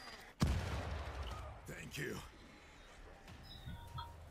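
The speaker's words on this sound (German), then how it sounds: "Die schießen wieder ihre Sprengladung durch die Gegend." Explosive charges fired in World War Z, a sharp loud blast followed by scattered booms and rumbling gunfire in a busy game scene, with someone talking over it.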